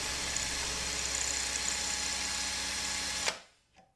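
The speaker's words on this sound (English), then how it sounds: "make sure that the drill is in reverse" Power drill running in reverse to drive a screw extractor into a stripped screw, a steady high whine lasting about three seconds before cutting off abruptly and spinning down.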